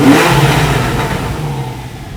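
A naturally aspirated 3.8-litre Porsche 911 991.1 Targa 4S with sport mode engaged revs loudly and close, its engine note holding a steady, full roar for the whole stretch without pause.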